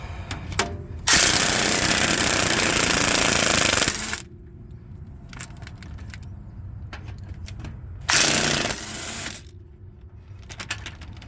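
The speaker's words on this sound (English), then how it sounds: "let's start removing these bolts" Loud bursts from a power tool backing out 14mm bolts on the gearbox of a 2001 Ford F-250 Super Duty, two long rattling runs of about three seconds and one second, separated by quieter clicking and shop noise.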